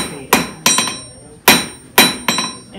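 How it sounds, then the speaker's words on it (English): A hammer strikes hot iron being hand forged into a nail, five sharp ringing blows at an uneven pace, loud and close with no talk. "I'm gonna just hammer on it and rotate."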